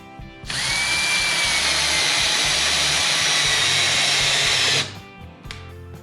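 A power drill drives 1 3/4 inch wood screws into a 6-inch faceplate on a green ash bowl blank for woodturning, with one steady, loud, whining run of about four seconds and no talking.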